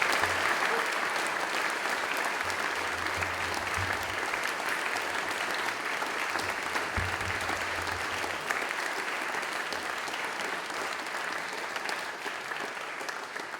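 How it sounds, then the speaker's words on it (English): Students at a school service give the school staff a round of applause, a dense, sustained clapping from a large crowd that carries on evenly for over ten seconds, fairly distant and with no talking over it. "I'd love to hear you give them a round of applause."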